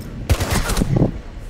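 Rapid P90 submachine gun fire in Rainbow Six Siege, a fast, loud burst of closely spaced shots lasting under a second, then a couple of trailing shots fading out.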